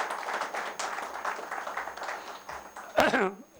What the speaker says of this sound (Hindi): इनके सम्मान में एक बार जोरदार तालियां